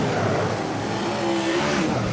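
Super sedan race cars roaring around a track at a night race meeting, a dense, loud engine blur with pitch rising as cars pass close by.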